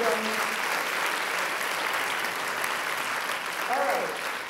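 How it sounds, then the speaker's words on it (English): An audience at a business talk applauds continuously, a broad, even wash of many hands clapping that holds steady and then tapers slightly, with a brief voice near the end. "So big round of applause to you guys,"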